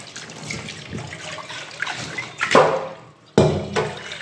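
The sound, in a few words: water filling a bowl to soak raw mangoes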